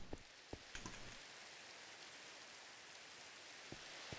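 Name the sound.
rain in Minecraft video game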